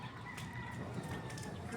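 Pet chickens cluck and call softly on a rooftop, a short, steady burst of fowl chatter against a busy background.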